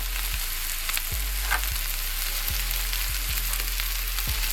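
Diced baby bella mushrooms sizzle in oil and butter in a pan, a steady dense crackle up close, with a low rhythmic thump recurring every second or so beneath it.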